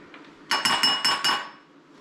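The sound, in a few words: spoon clinking while scooping out squash seeds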